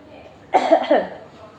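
A short burst of two or three harsh coughs, close and fairly loud, with quiet room noise before and after.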